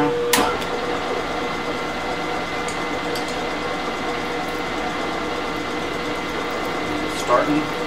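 Drill press running in back gear, giving a steady low mechanical whir with faint whining tones and a few sharp knocks, while a voice is heard over it.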